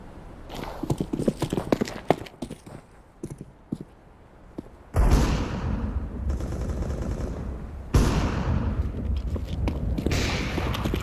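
Warm-up gunfire in a CS:GO match, including Desert Eagle pistol shots, comes as scattered sharp cracks and bursts, first sparse, then a denser, louder barrage of continuous shooting across the map.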